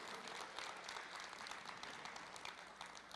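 A congregation at a church service applauds, dense even clapping spread across the room, quite faint and steady throughout.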